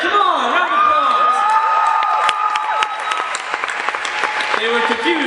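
A crowd applauds and cheers as the final contestants of an engineering contest come on stage, loud sustained clapping with whoops and shouts, and voices rising over it throughout.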